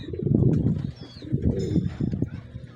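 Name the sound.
racing homer pigeons cooing in loft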